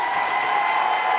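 A comedy-show audience applauds Joe Clair and the comedy crew during a live event. The brief wash of clapping and crowd noise is steady and loud throughout.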